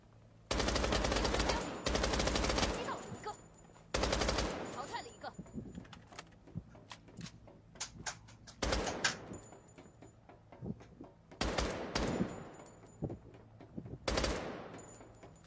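SMG gunfire in a video game, coming in several bursts of rapid shots separated by quieter stretches with smaller clicks and clatter, while a player talks underneath.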